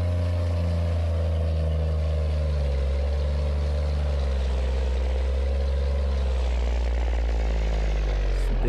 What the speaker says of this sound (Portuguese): Aqui tá faltando a pressão no motor mesmo